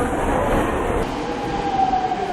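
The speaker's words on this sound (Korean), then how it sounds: "전동차가 들어오자 바로 몸을 싣는 가족들." A subway train pulls into a Seoul station with a loud, steady rumble of wheels on track and a thin rising squeal as it slows, no voices.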